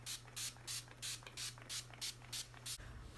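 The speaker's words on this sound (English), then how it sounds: "So to set my face, I'm going to be using the Urban Decay All Nighter Spray." Urban Decay All Nighter setting spray is pumped in about eight quick, evenly spaced hissing bursts, close and crisp, with a faint steady hum underneath.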